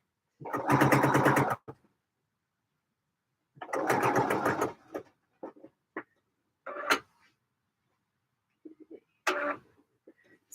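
A sewing machine runs in two sustained bursts of stitching while top-stitching fabric, followed by a few short stop-start stitches, fairly close and clear with no talk over it.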